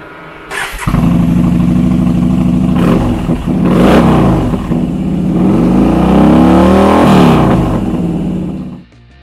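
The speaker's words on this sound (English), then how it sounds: "the aftermarket exhaust backs it up with a throaty sound" A 2014 Yamaha XVS950 Bolt R-Spec motorcycle with an aftermarket exhaust starts and revs, its loud, throaty V-twin rumble swelling through several blips of the throttle before cutting off near the end.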